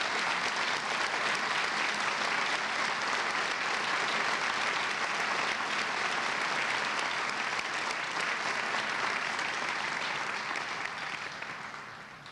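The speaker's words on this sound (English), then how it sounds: "join me in a round of applause for our graduates" Sustained applause for graduates from a large audience at a university fall convocation, a thick, even wash of clapping that holds steady and fades slightly at the end.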